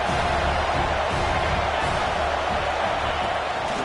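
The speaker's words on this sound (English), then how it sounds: "This crowd is trying to inspire this defense to make a big red zone stop." Loud stadium crowd roar at an Auburn versus Alabama college football game, a constant dense wash of cheering and noise building behind the defense during a red zone stand, with no break from start to finish.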